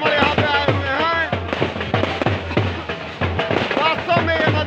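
Rapid, irregular bursts of firecrackers popping and crackling close by at a Vijayadashami Ravana-burning festival in heavy rain, sharp repeated bangs over a noisy festive crowd with voices.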